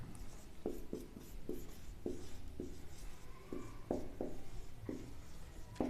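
Chalk or marker scratches across a board in a series of short, quiet strokes with a steady rhythm while a mathematical proof is worked out, with no voices heard.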